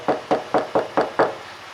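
A car door panel treated with Dynamat sound deadening is knocked six times in an even rhythm, each rap short, dull and damped, close up and alone.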